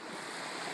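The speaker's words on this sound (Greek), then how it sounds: "Θα βλέπεις αυτά τα κύματα όλο τον χρόνο." Sea waves wash steadily at the shore at Daskaleio near Keratea, Attica, heard as a continuous broadband rush with some wind noise and no talking.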